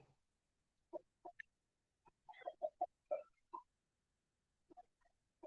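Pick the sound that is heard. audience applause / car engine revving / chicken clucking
chicken clucking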